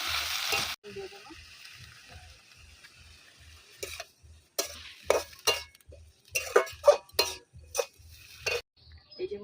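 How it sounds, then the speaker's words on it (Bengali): A spoon stirs garlic and green chilies in a kadai with scattered scrapes and clinks, some louder toward the end. A faint sizzle and a low regular ticking run underneath. "এইভাবে আমি একটু কড়াইতে নাড়াচাড়া করে নিয়েছি।"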